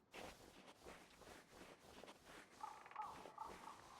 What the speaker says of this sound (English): What are these birds I can hear?